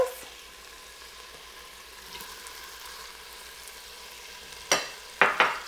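Tomatoes go into a hot pan of eggplant and potato curry: a low background sizzle, then a few sharp bursts of spattering and hissing as the pieces hit the oil near the end.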